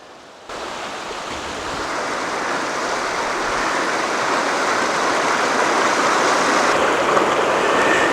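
A creek rushes beside the hiking trail at Catawba Falls near Old Fort, North Carolina, its steady broadband wash of flowing water starting abruptly and staying loud and close, gradually swelling slightly throughout.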